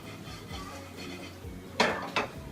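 Pecans stirred and tossed in a pan, faint scraping and rattling followed by two sharp metallic clatters near the end, up close.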